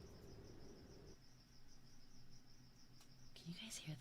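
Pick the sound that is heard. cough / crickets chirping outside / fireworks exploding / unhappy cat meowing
crickets chirping outside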